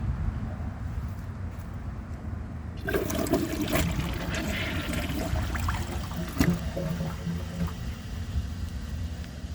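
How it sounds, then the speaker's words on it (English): After a quiet moment, water suddenly gushes and splashes into a toilet bowl, a loud, steady rush that continues to the end. "add some water to the bowl"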